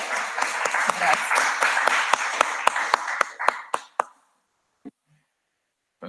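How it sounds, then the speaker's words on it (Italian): A short burst of applause from a few people at an online university presentation, fading out after about four seconds and leaving a couple of isolated claps. "ci vorrebbe un applauso più che altro"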